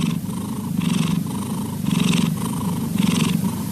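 A domestic cat purrs steadily up close, its rumbling purr swelling in a regular rhythm of four or five breaths, loud and alone with no talk.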